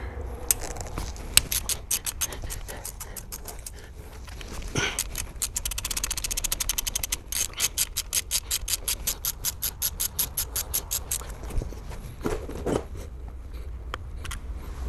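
Rapid, even clicking of a ratchet wrench loosening a cam chain tensioner bolt on an engine during a cam phaser swap, close and crisp in long runs of ticks with short pauses and a few metallic knocks between.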